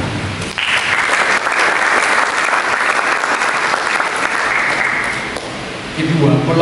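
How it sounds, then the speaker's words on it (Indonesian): A church congregation claps in applause during a sermon, a loud, dense wash of hand claps from a large crowd that swells quickly, holds steady for several seconds and then fades as a voice resumes. "Berikan tepuk tangan."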